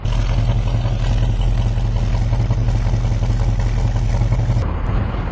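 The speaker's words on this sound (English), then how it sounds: "let you listen to the great sound that you get from the 340 Cudas." A 1972 Plymouth Cuda 340 V8 idles steadily with a deep rumble and throaty exhaust burble, loud and close, holding a low, even pulse throughout.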